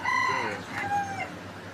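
A bantam rooster, a small backyard breed around one kilogram, crows once in a clear, loud call with a rising then falling tone, close by in a home chicken setup.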